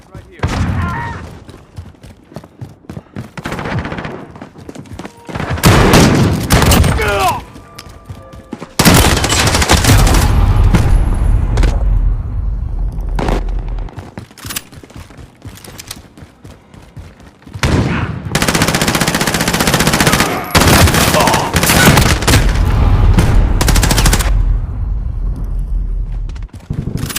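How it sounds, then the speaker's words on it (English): Heavy video game gunfire booms in loud bursts, deep shotgun blasts mixed with rapid automatic fire and explosions, separated by quieter gaps, while a player talks throughout. "try and shoot somebody with a shotgun from there"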